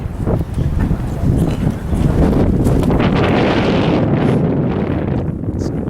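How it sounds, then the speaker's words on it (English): Strong wind buffets the microphone outdoors in Greece on an overcast day, in loud, rumbling gusts, with a roaring rush that persists throughout and no clear talking. "It's windy"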